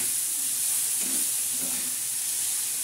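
Brinjal bharit paste, stone-ground on a pata, frying in a pan with a steady, loud, even sizzle and hiss that never lets up, and a few faint stirring movements underneath.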